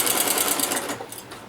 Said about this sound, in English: I'm going to continue to sew my 1/4 inch seam